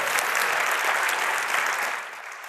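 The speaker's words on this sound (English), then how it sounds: "so quick round of applause" Brief round of audience applause at a talk, many hands clapping steadily at moderate volume before thinning out and fading toward the end.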